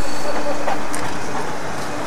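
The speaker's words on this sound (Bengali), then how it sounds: "ট্রেনটা চলে এসছে লুধিয়ানা জংশন" The 12357 Durgiyana Express rolls into Ludhiana Junction with a loud, steady, broadband rumble of train and station noise that eases slightly as it slows.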